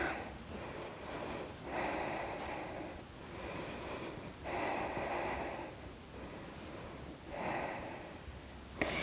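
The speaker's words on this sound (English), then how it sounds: "Breathe 3 deep breaths." Slow deep breathing during a yoga pose in a core-strengthening flow with blocks, three or four long, soft, airy breaths rising and fading in a steady rhythm.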